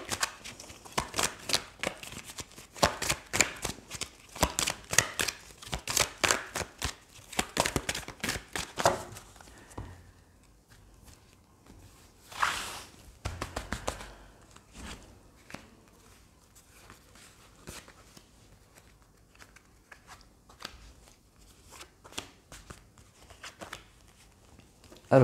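Tarot cards are shuffled up close in quick, crisp riffling bursts for several seconds, then handled more sparsely with scattered soft flicks and slides, with no voices.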